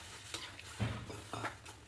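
A spoon stirs a fish curry of kanava (squid) after tamarind water has been added. Soft scraping strokes come at a steady rhythm, faint and close, under a low background hiss.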